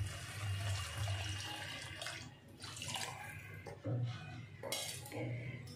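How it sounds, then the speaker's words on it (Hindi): Water poured into a pan of softened vermicelli on the stove, a continuous splashing pour with metallic clinks of the pan and utensils, close and fairly quiet. "अब मैं इसके अंदर पानी ऐड करूँगी।"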